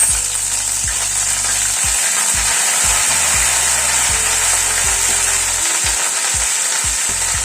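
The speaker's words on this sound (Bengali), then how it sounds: "গ্যাসের ফ্লেমটাকে একদম কমিয়ে দিয়ে ফোড়নটাকে একটুখানি ক্র্যাক করিয়ে নিচ্ছি" Cumin seeds crackling in oil over a low gas flame, then ginger paste added, a constant close hiss of frying with a scatter of sharp pops and spatters throughout.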